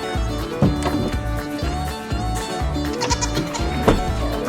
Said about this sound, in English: The goat's here.